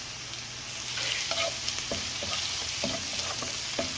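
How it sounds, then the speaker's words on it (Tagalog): Oil sizzling steadily in a pan while sautéing bitter gourd for ginisang ampalaya, with occasional spoon scrapes and clinks against the pan over a constant frying hiss. "Magigisa tayo ng gulay."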